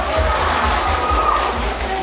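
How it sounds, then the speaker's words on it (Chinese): Loud, continuous applause and cheering from a fan audience at a celebrity birthday party, a steady wash of crowd noise that carries on throughout without pause. "好，可以鼓掌啊。"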